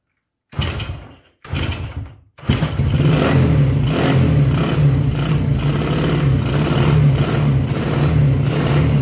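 A 1975 Honda CB125S motorcycle sputters through two brief start attempts, then catches and settles into a loud, steady idle with a fast, rattly single-cylinder putter up close.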